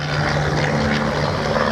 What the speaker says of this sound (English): Gorgeous aeroplane, the Chipmonk.